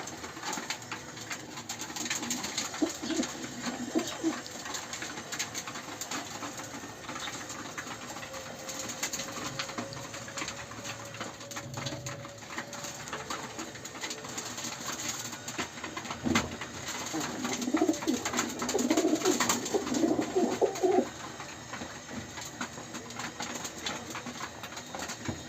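Pigeons coo softly and repeatedly outdoors, low murmuring calls swelling near the end over a steady faint background hum.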